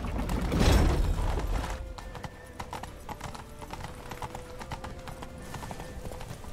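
A horse gallops in The Witcher 3: Wild Hunt, its hooves beating a steady, rapid clip-clop over game sound effects after a louder rumbling start.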